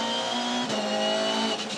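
A V8 Supercar racing in the 2015 Sydney 500 gives a brief, sustained engine roar at moderate distance, its pitch shifting slightly as it passes.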